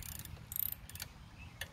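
Faint, brief ratcheting clicks from tightening a bolt on a tiller during belt installation, a few short bursts close by and quiet.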